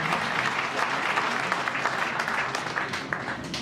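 Steady, dense applause from an awards ceremony audience in Saint-Soupplets greeting a third-prize winner, many hands clapping continuously at a moderate distance with no break.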